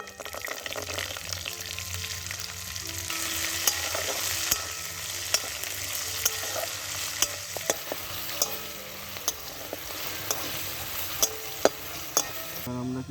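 Bay leaf, dried chili and peas frying in hot oil for jeera rice, a steady soft sizzle with repeated sharp clinks of a spoon stirring against the pan, close up and without talk.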